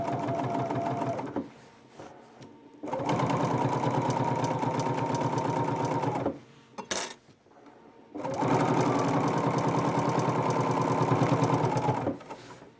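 A Bernina sewing machine with a 71 foot stitching quilt binding, a loud steady mechanical whir in two long runs with a brief quiet pause and a few clicks between them, up close.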